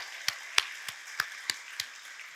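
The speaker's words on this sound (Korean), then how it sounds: "하나님께 박수로 영광도 돌리고요" Six sharp hand claps spaced evenly about a third of a second apart, crisp and fairly quiet, from a congregation during a Korean Sunday church service, with no talking over them.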